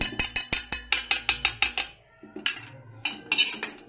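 A spoon clinks rhythmically against a cooking pot while raita made with yogurt is stirred, a quick run of about a dozen sharp metallic taps, then a pause and a few scattered louder clanks, close by and with no talking.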